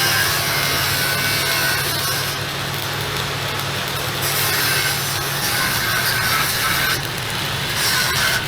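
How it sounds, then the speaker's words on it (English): Welding on a Scania 143H V8 truck part during restoration, a loud continuous crackling hiss holding steady for several seconds with slight swells, close by and with no voices. "And here is Mika just welding."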